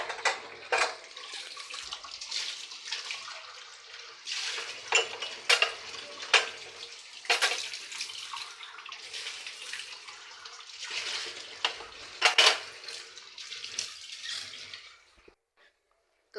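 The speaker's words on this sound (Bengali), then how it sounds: "এখন আবার কয়টা কাপ বাকি ছিল, সেগুলো ধুয়ে নিচ্ছি" Tea cups and dishes are washed under running water at a kitchen sink, with irregular clinks and clatters of ceramic over the splash and trickle of water, close and moderately loud, fading out at the end.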